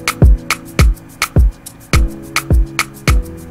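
A punchy electronic kick drum thumps repeatedly in an Afrobeat beat made in FL Studio, each hit a deep booming drop, with crisp percussion ticks and faint chords in between.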